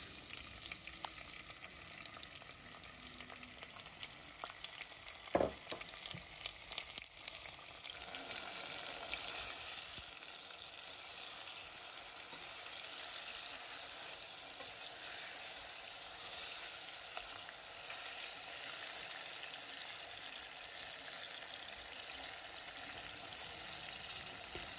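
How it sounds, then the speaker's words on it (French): Tomatoes and garlic pieces sizzle in hot oil in a saucepan, a steady close frying hiss with a brief clatter early on, continuing evenly without talk. "dans une casserole, j'ai mis un fond d'huile que j'ai laissé chauffer avant d'y verser les tomates et les morceaux d'ail"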